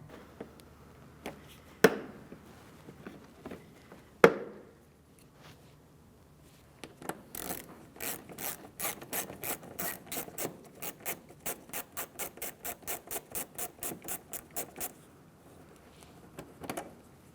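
Removing a push clip and Phillips screw from a 2016-2022 Honda HR-V front wheel well: a few sharp taps and clicks, then a long steady run of rapid rhythmic ratcheting strokes close by, ending in scattered clicks.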